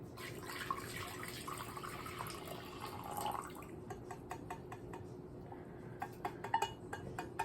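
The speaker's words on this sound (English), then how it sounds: "So here goes the milk." Hot milk pours into a large bowl for sandwich bread dough, a soft continuous liquid splash that thins into scattered drips toward the end, quiet and close.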